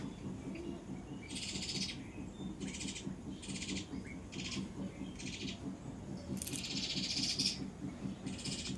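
Repeated owl hoots ring out in short bursts over a steady chorus of chirping birds and buzzing insects, fairly close and clear.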